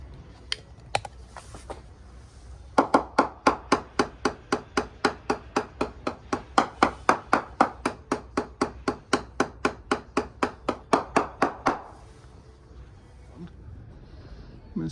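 A hammer tapping along a balsa-core boat hull: a few scattered knocks, then a long, steady run of about thirty even, close taps, with a faint voice in the background.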